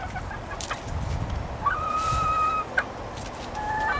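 Backyard chickens cluck and chirp at a moderate distance over steady outdoor ambience, with a few brief higher-pitched calls standing out in the middle and near the end.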